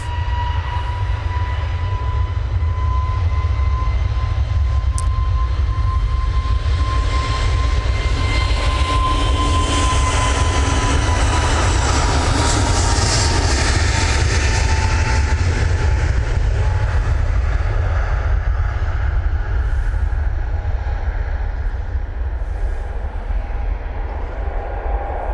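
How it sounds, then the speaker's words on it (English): A Jet2 Airbus A321neo roars on take-off at Manchester Airport toward Palma de Mallorca, a sustained loud low rumble with a whining engine tone that swells and slowly recedes over about twenty-five seconds. "Jet 2 321 Neo now blasting out to Palma de Mallorca."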